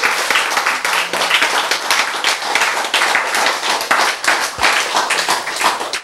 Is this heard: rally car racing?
no